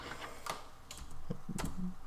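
A computer keyboard being typed on while working in Moho Pro 12 animation software, a few scattered soft key clicks and taps, close and quiet, with no voices.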